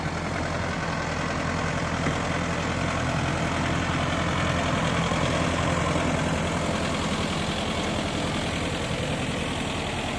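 A tractor pulling a five-tyre cultivator runs steadily at a constant drone, a loud low engine rumble that holds without change from start to finish.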